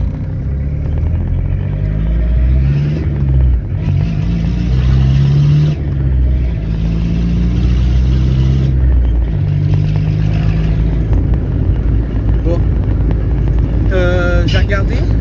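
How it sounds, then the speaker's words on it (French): Golf 3 TD diesel with the turbo removed, idling around 1000 rpm and vibrating, a loud steady low rumble with wind buffeting throughout and a voice briefly at the very end. "Et moi vu qu'elle vibre de partout, elle est à 1000 tours la voiture."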